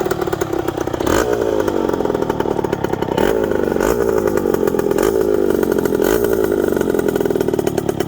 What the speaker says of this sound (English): Listen to the exhaust note on it. It sounds awesome.